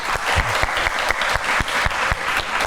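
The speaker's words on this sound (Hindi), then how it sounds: "सो बहुत सारी तालियां दोनों गेस्ट के लिए।" Studio audience at a comedy talk show applauding the guests, a loud, close burst of clapping with distinct individual claps standing out in a steady rhythm.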